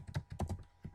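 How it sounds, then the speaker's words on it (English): Keystrokes on a computer keyboard while a command is entered on a Cisco router: a few quick, close taps clustered in a short burst, with no talking. "I will just type IP route"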